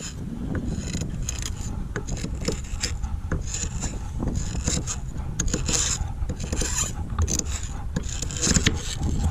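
Knife sawing and scraping through a solid, hard chemical cake, a loud close rasping grind with repeated gritty strokes and crunches throughout.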